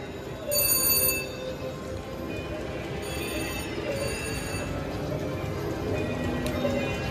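A Polar High Roller VGT slot machine at Choctaw Casino rings bells for a win. The ringing is bright and repeated and carries over a steady casino din.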